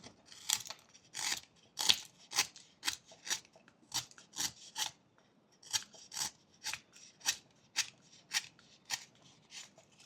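A knife whittles wood to carve a small whale, making repeated short rasping scrapes in an irregular rhythm, close and crisp with quiet pauses between cuts.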